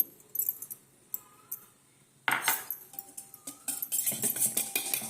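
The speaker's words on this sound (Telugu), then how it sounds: "ఉండలు లేకుండా మనం బాగా కలుపుకోవాలి" A spoon mixes gram flour batter in a bowl, clinking and scraping against the sides in quick irregular bursts, faint at first and then busier and louder.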